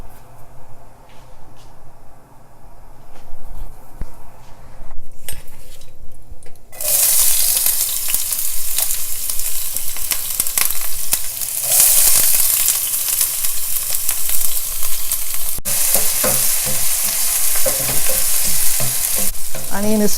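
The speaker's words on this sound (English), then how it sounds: "So I'm going to cook the sauce. Some oil. I'm going to put cinnamon stick." Cinnamon stick and ground sauce cooking in hot oil for chicken tikka masala, a quieter start that bursts into a loud, continuous sizzle and crackle with occasional stirring scrapes, no talking.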